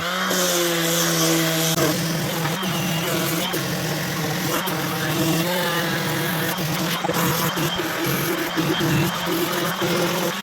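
A power sander with coarse grit works along the edge of an oak butcher block worktop, giving a steady, loud motor drone with a gritty rasp throughout.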